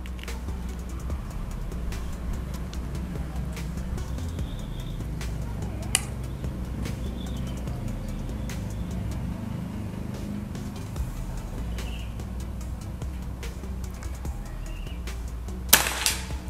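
After a long quiet outdoor stretch with a low steady rumble and a few faint clicks, a Predator OD 38 Monolite PCP air rifle fires one sharp, loud report at long range, followed by a softer echo-like tick.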